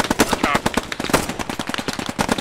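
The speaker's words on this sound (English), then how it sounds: "That's a tank shooting at us." Dense, loud gunfire fills a battle in the game Post Scriptum, with rapid automatic bursts, heavier booms from tank fire, and no pause in the shooting.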